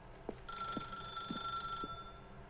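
A telephone rings in the video game The Stanley Parable, a steady electronic tone lasting most of the clip with faint rhythmic clicks beneath it.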